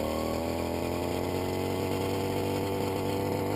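A small RC helicopter engine idles up steadily with a buzzing, droning tone, revving slightly and holding loud and close throughout.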